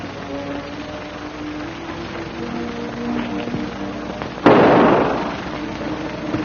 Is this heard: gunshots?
yes